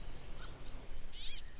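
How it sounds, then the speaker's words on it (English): Two short, high calls from a brambling in a Scandinavian winter landscape, sounding far off and thin against steady outdoor background noise, spaced about a second apart. "that's the call of the Brambling"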